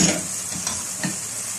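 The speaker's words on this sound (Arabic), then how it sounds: "وهنا بقى بعد ما كده ما شوحت معايا اللحمه هبدا بقى ان انا انزل بالبصله اللي معايا" Meat with onion added frying in a pan, a constant sizzle broken by a few soft scraping stirs, close and fairly loud with no talking.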